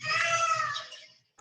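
A pet cat's drawn-out meow, played back from a recording, one long harmonic cry lasting about a second then fading, with a faint tail at the end.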